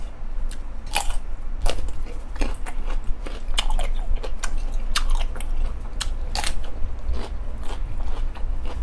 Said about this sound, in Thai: กุ้งนะครับทั้งกรอบทั้งเหนียวนุ่มนะครับเข้ากับน้ำราดของเรามากเลย